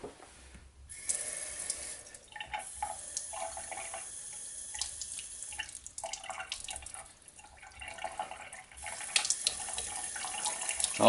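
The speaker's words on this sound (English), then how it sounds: "All right, just regular old tap water." Plain tap water runs into a sink while old paint is washed off, a steady splashing gush with shifting, uneven splatter as the flow hits the object and basin, growing a bit louder at the end.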